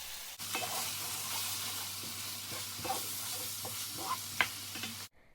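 Pepper steak sauce is poured into a hot pan and stirred, giving a steady close sizzle with scraping stir strokes and small clicks throughout, ending abruptly.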